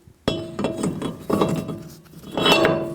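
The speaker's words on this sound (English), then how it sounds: "Flip the rotor around." A brake rotor from a Mercury Mountaineer is flipped and set down, giving a few loud metallic clanks and rattles, close up and spaced about a second apart, with no talking.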